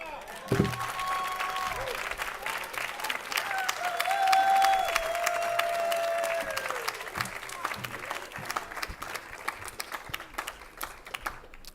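An awards-ceremony audience at the CLCV Environmental Leadership Awards breaks into sustained applause. The clapping swells, then tapers off slowly across the whole stretch while a faint tone lingers beneath it.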